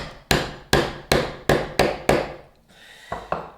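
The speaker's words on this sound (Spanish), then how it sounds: "realizamos un corte de formón con el martillo en vertical" Hammer strikes drive a chisel vertically into wood while cutting a wedged sliding dovetail joint, six sharp, evenly spaced blows ringing close and loud, followed by two lighter taps after a short pause.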